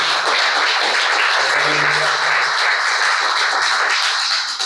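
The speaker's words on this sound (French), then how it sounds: "on va les féliciter par un sale applaudissement" Audience at a project presentation for the ESAT in Avrillé applauds in a sustained, dense roar of clapping, with a brief low voice audible partway through.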